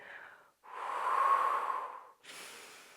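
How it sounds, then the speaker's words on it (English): Deep breathing during a knee-friendly Pilates exercise: a short breath, then a long, loud, airy breath through the nose swelling and fading, followed by another softer breath, close and clear with no talk. "So reconnect to deep breathing here."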